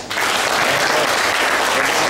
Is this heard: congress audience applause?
yes